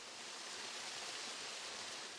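An artificial indoor waterfall in a hospital makes a soft, steady rush of falling water, even and unbroken, heard faintly with no voices.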